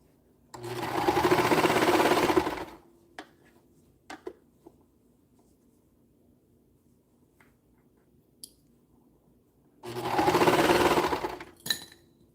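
A sewing machine stitches a bummie in two quick bursts a few seconds long, with quiet handling clicks and taps of fabric in the pause between.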